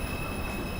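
An uptown local 1 train on the New York City subway approaches the station with a steady rumble and a thin, sustained high wheel squeal, close by and brief, with no voices.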